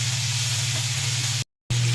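Ingredients fry in a pan with a steady, loud sizzle and a low hum beneath it, broken by one brief silent gap.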